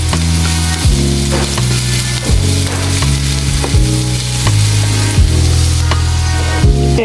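Onion frying with a little salt in a pan, a continuous loud sizzle with a low droning hum and periodic scraping stirs, no voices.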